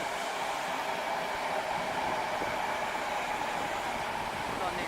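A passenger train running through Alexandra Palace station, heard as a steady broadband rumble and rushing hiss of a carriage rolling past, continuous for several seconds.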